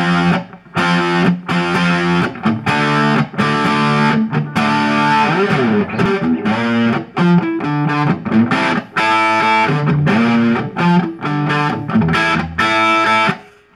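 Electric guitar played through an Ashland DT distortion pedal, with chords and riffs in a thick, fuzzy, saturated tone, loud and continuous with brief gaps between phrases.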